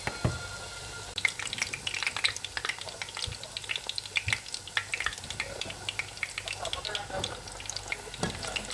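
Shrimp fish cakes made with tiny freshwater shrimp fry in hot oil with a steady crackling sizzle, dense with sharp pops and occasional louder spatters throughout.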